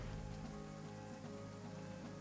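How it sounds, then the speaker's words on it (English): Steady rain falling on a surface, a dense continuous hiss at a quiet, even level throughout with no voices. "I wish we had a way to get out of this rain."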